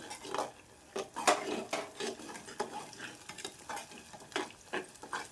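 Soft sizzling of tomato puree frying in oil, broken by repeated scraping and clinking as a utensil stirs, quiet and close, with no talking.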